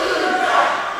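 A wrestling crowd in Hazard, Eastern Kentucky shouts and jeers at the wrestler Omega, a dense, loud wall of massed voices filling a brief moment.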